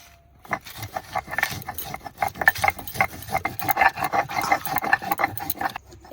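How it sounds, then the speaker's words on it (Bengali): Green chili, dry chili and black pepper being ground into paste by hand in a village kitchen: steady rhythmic rubbing and grating strokes, close and fairly loud, repeating throughout with no talk. "এবার কাঁচা লঙ্কা, শুকনো লঙ্কা আর গোলমরিচটা বাটলেই আমার মশলা বাটা কমপ্লিট।"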